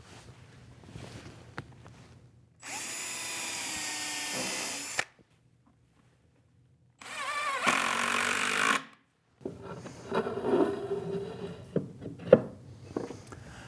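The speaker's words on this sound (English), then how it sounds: "I can drill the pilot hole for the screw and then drive in the screw" A power drill boring pilot holes and driving screws into a wooden cutoff bin on a mobile lumber cart, with two sustained loud whirring bursts separated by a pause, followed by shorter stuttering bursts and clicks.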